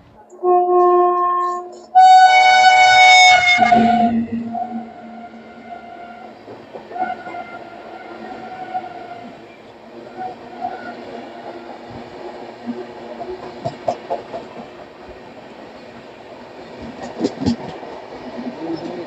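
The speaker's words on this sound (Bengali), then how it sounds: "আহমেদাবাদ সমস্তিপুর সুপারফাস্ট এক্সপ্রেসের সময় ক্রসিং হবে" A loud train horn blasts at the start, then the Ahmedabad–Samastipur Superfast Express rumbles past on a crossing track with rhythmic clacking of wheels over rail joints, fading to a steady rolling hum.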